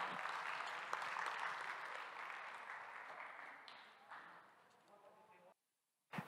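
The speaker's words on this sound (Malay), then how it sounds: "Beri tepukan untuk Cik Khairul kita" Audience applause for a speaker at a Malay-language community talk, a dense, steady clatter of many hands that fades over several seconds and stops abruptly, followed by a brief voice at the very end.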